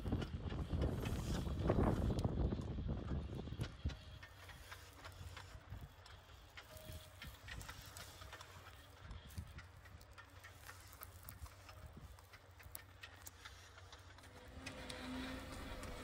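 A Plantma X forestry planting machine at work in Nyhammar, its wheels compacting soil mounds: a steady outdoor engine drone with wind buffeting, rattling and clanking throughout, louder at the start.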